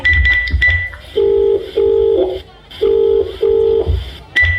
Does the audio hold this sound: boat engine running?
no